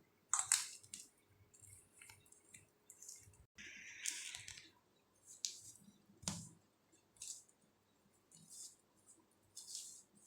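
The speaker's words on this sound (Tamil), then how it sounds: "இதை கையால் தான் பிசைஞ்சு விடணும், ஏன்னா வாழைப்பழம் வந்து நெசுங்காது." Wheat flour and banana dough kneaded by hand, heard as faint, intermittent soft squelches and sticky squishes separated by quiet gaps.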